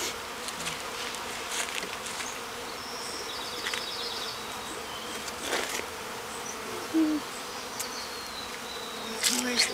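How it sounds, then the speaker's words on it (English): Honey bees from a package being hived in a box hive, buzzing as a soft continuous drone with occasional louder passes close by, plus a few faint background clicks and noises. "And that's hiving a bee package."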